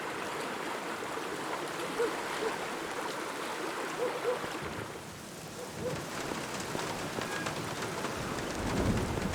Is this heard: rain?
yes